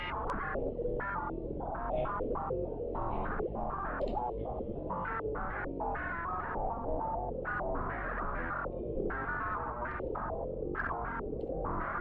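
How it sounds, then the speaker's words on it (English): An FM synth line run through a pitch shifter effect, with a warbling, shifted tone, playing a choppy sequence of notes steadily with no voices. "we've got a little less of a harsh sound now with this pitch shifter"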